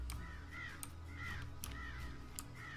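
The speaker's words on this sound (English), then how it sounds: "but these crows are very noisy" Crows in the video game Planet Coaster caw repeatedly in a steady rhythm, several distinct calls about half a second apart, faint and somewhat distant over a low ambient background.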